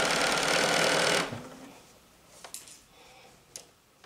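A sewing machine running a straight stitch with black thread, a loud steady mechanical whir for about a second before stopping, followed by a few faint ticks and clicks.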